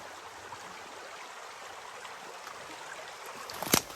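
Creek water flows steadily near Jade City, a soft broadband rush heard alone and fairly close, with a brief louder splash or knock right at the end.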